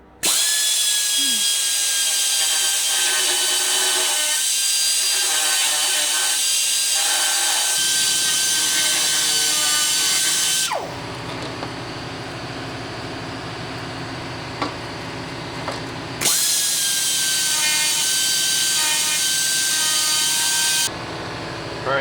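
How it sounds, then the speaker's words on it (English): A Dremel rotary tool cuts out a space for cables inside a van, whining loudly and steadily at high speed, easing off briefly midway before revving back up, with no talk. "I just dremeled that out a little bit, so now there's a nice space."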